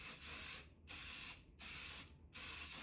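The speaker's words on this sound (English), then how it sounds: "And then I'm going to do Kryolan fixing spray." Kryolan makeup fixing spray hisses in three quick, close bursts of even length, separated by brief silent gaps.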